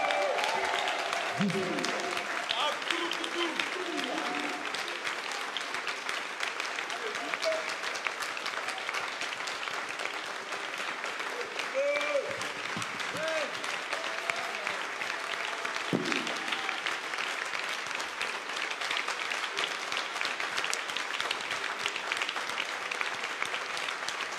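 A church congregation claps steadily and cheers throughout a Sunday worship service, with broadband applause filling the room at a consistent level and scattered voices rising above it.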